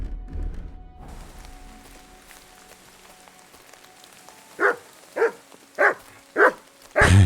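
A dog in the medieval video game Kingdom Come: Deliverance II barks five times at a steady pace toward the end, loud and close, after a quieter stretch with rain-like background sound.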